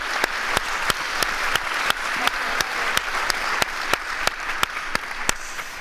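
A crowd gives enthusiastic, sustained applause after a conversation with Malala and Ziauddin Yousafzai, dense clapping close and loud with occasional sharper individual claps standing out.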